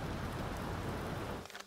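Steady heavy rain and a low thunderstorm rumble in the U-boat video game, a continuous broadband wash that drops away abruptly near the end.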